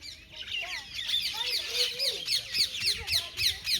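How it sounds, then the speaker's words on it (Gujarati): Mynas and other small birds at Sahastralinga lake chirp in a rapid, rhythmic series of bright calls, fairly close, with a voice murmuring faintly underneath. "જુઓ કેટલી બધી કાબરો આવી"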